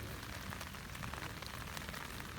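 Rain falls steadily on a campsite during a campfire, a dense close patter of drops hitting surfaces throughout with no talk.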